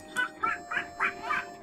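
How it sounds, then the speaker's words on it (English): Agitated Cuccos in the video game Zelda: Ocarina of Time squawk five times in quick succession, sharp nasal clucks in an even rhythm over a faint steady game hum. "Those are some upset cuckoos."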